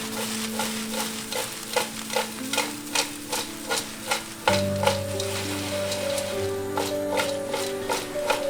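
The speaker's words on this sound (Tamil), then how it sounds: "நல்லா வதக்கி கிண்டி விட்டோம்." Brinjal pieces being stirred and sautéed in a pan: regular scraping strokes of the spoon roughly every half second over a constant sizzle, with a steady hum from a kitchen appliance in the background.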